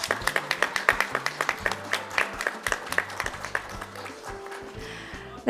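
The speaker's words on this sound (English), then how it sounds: "Why don't we give a round of applause?" Scattered applause from a modest audience at a sustainable finance forum, a few seconds of clapping that thins out toward the end.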